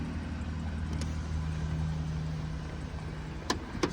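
A car engine idles with a low, steady rumble that holds even throughout, and a few sharp clicks or taps land near the end, with no talking.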